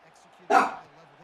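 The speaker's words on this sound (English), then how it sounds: "You can probably hear my dog in the background barking." A single short dog bark in the background, quick and moderately loud above low room noise.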